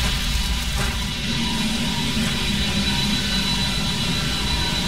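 An aircraft lands in the video game Vanquish, a steady, loud jet-engine roar that holds evenly throughout with no talk over it.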